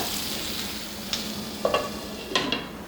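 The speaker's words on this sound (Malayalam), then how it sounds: "ചേർത്ത് കൊടുക്കുക സവാളയും കൂടെ ഒന്നുകൂടി നന്നായി ഒന്ന് വഴണ്ട് വരട്ടെ" Onions sautéing in a pan for Kerala prawn masala give a steady soft sizzle, with a few sharp clinks and scrapes from stirring near the end.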